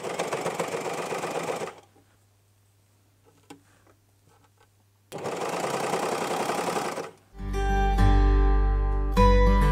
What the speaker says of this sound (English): I'm going to start at the back and stitch it in with my overlocker